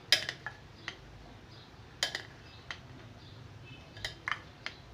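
A spoon clinks against a bowl while chana chaat is stirred with chaat masala, light scattered taps and scrapes in small clusters, faint and close, with no talking.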